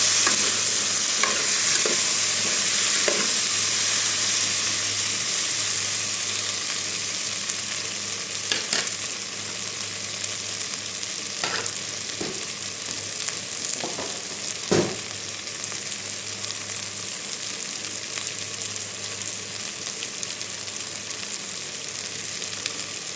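Meat fries in a pan with tomato paste, a steady loud sizzle running throughout with occasional scrapes and stirring taps, no voices.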